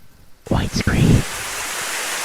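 Steady rain at morning twilight makes a broad, even hiss that continues throughout, with a voice speaking briefly near the start.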